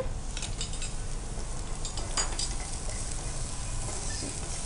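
Fried vegetables for a khakra stuffing are stirred and tossed in a pan, with a low continuous sizzle and soft scraping of a spoon against the metal.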